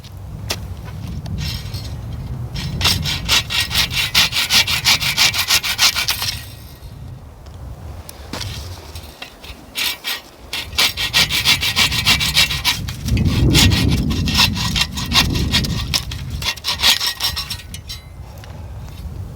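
Dead wood being sawn by hand into firewood chunks at a hot tent campsite, with steady back-and-forth rasping strokes, loud and close, in two long bursts separated by a quieter pause.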